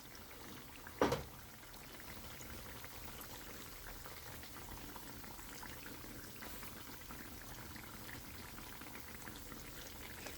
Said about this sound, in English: we'll let these fry at least about 3 minutes on each side